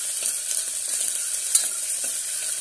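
Three slit green chillies sauté in a pan for rajma pulao, producing a steady bright hiss of hot oil with a soft stirring tap partway through.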